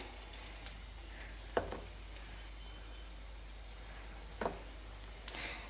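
Pre-fried okra, prepared like mirchi fritters, frying in hot oil in a kadai gives a steady, close sizzle throughout, broken by a couple of brief stirring clatters, with no talk.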